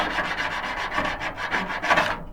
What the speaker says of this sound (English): take some 80 grit, scuff up the hinge